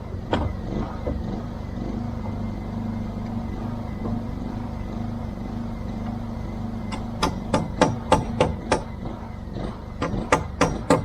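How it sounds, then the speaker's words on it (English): A hammer driving nails into treehouse boards outdoors among the trees, first a few scattered knocks over a low engine-like drone, then a run of sharp, evenly spaced blows growing more regular toward the end. "I need a hammer and a couple of nails"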